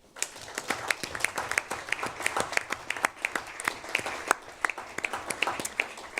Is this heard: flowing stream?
no